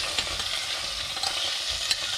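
Onion frying in butter and oil in a hot pan, a loud close sizzle broken by scattered stirring scrapes and small pops, no talking.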